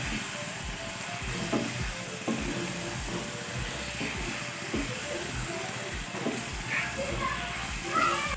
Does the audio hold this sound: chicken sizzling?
yes